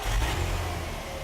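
A vehicle engine runs steadily up close after brand new fan belts have been fitted, a low continuous hum and rumble with no talking over it.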